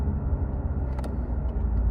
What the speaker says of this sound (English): I'm just trying to merge into traffic now.